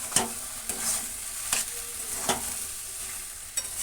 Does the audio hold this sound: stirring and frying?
yes